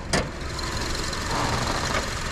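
Under the open hood, a 2006 Honda CR-V's 2.4-liter four-cylinder engine idles with a steady, even hum, and a short click stands out near the start.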